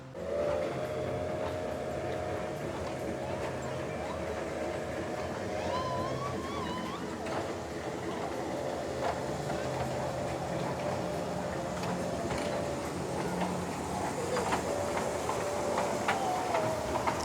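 A small kiddie train ride at Disney Springs rumbles steadily on a short track for the whole stretch, with a sustained whistle-like tone and faint crowd noise in the background, no clear talk.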